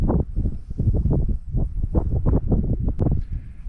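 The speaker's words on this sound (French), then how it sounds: "hormis le bruit des vagues, on entend un tout petit peu le vent." Waves wash against a rocky seashore in continuous low, surging bursts, with a light wind hissing faintly above them and no voices.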